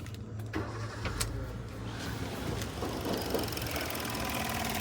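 A 2013 Maruti Suzuki Swift VXI engine idles steadily with the air conditioning on, a low rumbling hum and a broadband whir, as of a fan running, with no talking.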